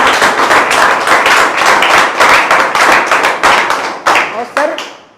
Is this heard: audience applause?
yes